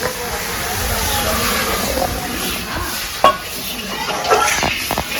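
Dal sizzles as it fries in a pan, a constant close hiss with a few scraping clinks of stirring near the end.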